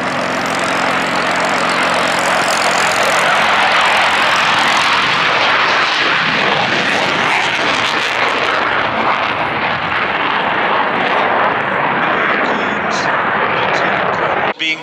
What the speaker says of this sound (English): Here's Lieutenant Colonel Hens taking off.